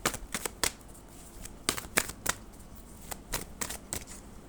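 Tarot cards being shuffled by hand, close and crisp, in quick irregular bursts of riffling flicks and slaps separated by short pauses, with no talk over them.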